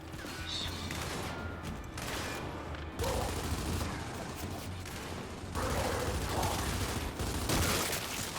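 Dense video-game gunfire and explosive bursts from Gears 5, including boom shot and rocket blasts, fill the clip in sustained rapid volleys with heavy crashes throughout and no talking.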